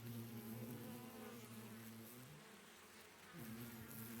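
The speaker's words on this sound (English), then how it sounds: "Suddenly, an ominous sound came from nowhere. Those are bees." Loud, steady buzzing of a swarm of bees in the video game The Hundred Line: Last Defense Academy, a dense droning hum that dips briefly and then returns, with no voices over it.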